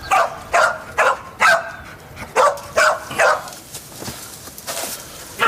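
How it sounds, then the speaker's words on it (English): A police search dog barking repeatedly, about eight sharp, evenly spaced barks close by, followed by softer whimpering yips. "When he finds something, he barks."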